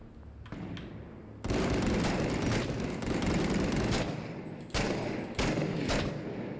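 Sniper gunfire in the video game Six Days in Fallujah, set in an urban combat zone. Loud, sustained shooting fills the scene, with several sharp cracks standing out over the continuous din.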